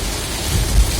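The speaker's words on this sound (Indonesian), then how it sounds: "Hujannya gede banget." Heavy rain drums on a car during a storm on the Jagorawi toll road, heard from inside the cabin as a dense, loud hiss with a deep low rumble swelling briefly like thunder.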